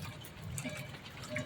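Rainwater drips and trickles into collecting containers during a rain, a soft, steady patter of small drops heard close by, with no voices.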